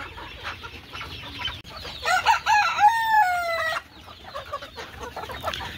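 Desi chickens on a poultry farm cluck steadily nearby, and one rooster lets out a loud, clear crow in the middle.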